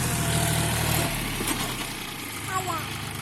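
A tractor engine with an MB plough attached idles with a steady low rumble close by, its drone continuing throughout while a voice talks faintly over it.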